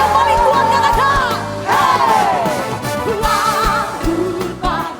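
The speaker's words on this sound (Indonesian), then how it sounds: "Sorak dengan suara yang paling kuat katakan." A church congregation shouts loudly together during a worship service, a dense, sustained roar of many voices with ringing, wavering tones that swells and dips over several seconds.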